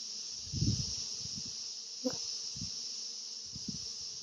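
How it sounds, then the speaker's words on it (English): A steady buzz of honeybees at an open beehive hums throughout, with a few low thumps and brief knocks standing out over it. "Bees are sitting nicely on the frame."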